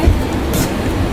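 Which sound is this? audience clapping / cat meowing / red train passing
red train passing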